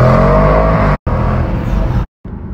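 A car engine revs loudly and close, a sustained droning growl cut off abruptly twice by brief silences before resuming quieter.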